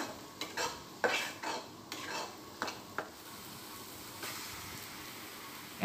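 Turmeric, chili and coriander powders stir-fried in a pan in a Bangladeshi home kitchen: a faint low sizzle under a rhythmic series of sharp spatula scrapes and knocks against the pan, spaced about every half second, then easing off.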